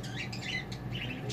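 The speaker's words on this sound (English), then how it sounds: "Shut up, bird!" A pet bird squawks and chirps in a series of sharp, bright calls at close range, several bursts spaced across a brief moment over low room hum.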